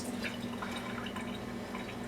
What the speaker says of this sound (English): We're going to rinse the strawberry.